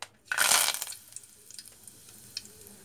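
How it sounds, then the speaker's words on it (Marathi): Curry leaves hit hot oil in a kadhai for a Maharashtrian ghevda bhaji, giving one loud, sputtering sizzle burst that quickly settles into a faint crackle. "आता टाकते मी कढीपत्ता"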